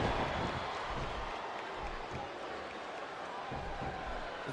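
Steady roar of a capacity arena crowd in the WWE SmackDown vs Raw 2007 wrestling video game, a broad constant wash of cheering and clapping at moderate level with faint thuds underneath.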